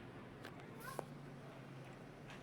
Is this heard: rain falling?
no